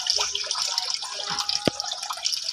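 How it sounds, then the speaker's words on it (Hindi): Water splashes and gushes from a motor pump lifting it out of a pit in a village lane, a continuous close wet rush with a sharp knock midway. "ये पानी उठा उठा कर बाहर फेंक रही है।"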